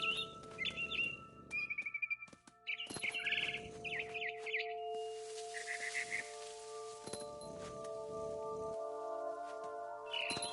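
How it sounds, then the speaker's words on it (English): A barn swallow in What Remains of Edith Finch chirps outside a window near its nest. It gives repeated bright, twittering calls in short bursts over a soft ambient drone, with occasional rustles and thumps between phrases. "Then I heard chirping outside my window. It was a barn swallow going back to her nest."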